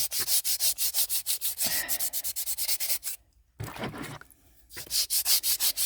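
Sandpaper worked by hand over a cast ceramic-resin mold piece, close rhythmic scratchy strokes that pause briefly midway and then resume.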